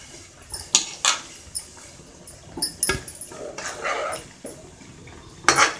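A metal lid is handled and set onto a pot of simmering mutton curry with drumstick, producing several sharp clinks and clatters of metal on metal, close and fairly loud.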